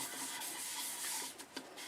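Soft, steady rubbing of a rag wiping Zinsser Bullseye sanding sealer onto turned maple burl and padauk wood, a close, hissing swish with a few small knocks near the end.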